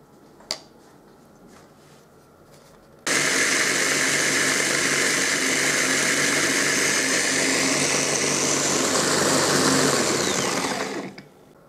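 A blender whirs into a pumpkin and zucchini seed cocktail sweetened with honey, starting abruptly after a short quiet stretch with a small knock, then running loud and steady for about eight seconds before cutting off.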